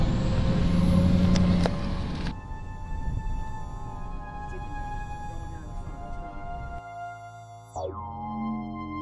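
A car engine rumbles steadily from inside the vehicle while it drives, its tone shifting as it changes speed, with a whining drop in pitch near the end and no talking.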